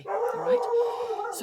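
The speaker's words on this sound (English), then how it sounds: "excuse the dogs barking." Dogs bark in a short burst indoors, loud and close, overlapping a voice that talks at the same moment.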